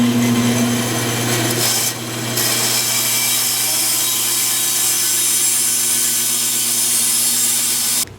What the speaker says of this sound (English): next we're gonna go to the bandsaw